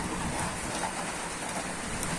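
Steady, dense hiss of rain pouring down on a roof during a storm, a continuous wash with no pauses.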